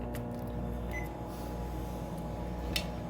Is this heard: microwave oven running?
yes